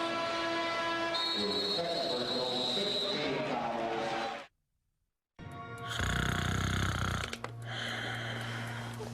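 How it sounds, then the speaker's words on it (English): A person snores loudly in bed in a TV commercial: a harsh, raspy rumble that breaks in after a brief silence following music and sound effects, then fades back under the ad's ongoing sound. "You're snoring. It's really bad tonight."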